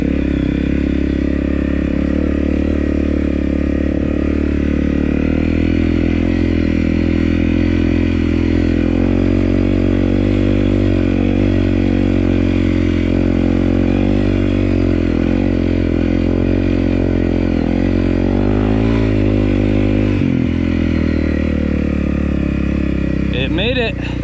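A 2018 Honda CRF250L dirt bike climbs a steep off-road hill, its engine droning loud and steady up close with clattering and rising revs, all covered by wind buffeting, and no clear talk.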